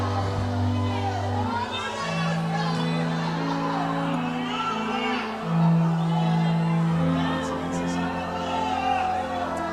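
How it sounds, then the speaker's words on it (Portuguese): A church congregation shouts and cheers loudly and continuously as a crowd under a steady low musical drone, with voices whooping and calling out throughout; no clear separate clapping stands out. "Quem pode aplaudir e gritar?"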